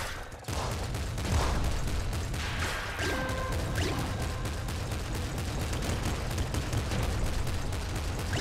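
Rapid gunfire and explosions from the Nuclear Throne video game, including a Gatling Slugger, clatter in dense continuous bursts with crashing blasts, loud and busy throughout, without speech.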